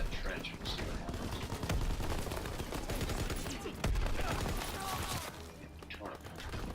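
Rapid gunfire in Call of Duty WW2 War Mode, dense bursts of rifle and machine-gun shots with thuds and explosions, under someone talking over the battle.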